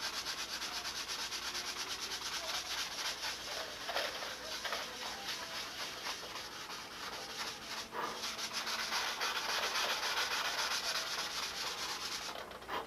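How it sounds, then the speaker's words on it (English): Steady dry rasping of 320-grit sandpaper on a sanding block worked over a model airplane wing, continuous and close with no voices, ending in a slightly brisker scrub. "I'm going to finish all the sanding out on the whole wing, blocking it out with 320"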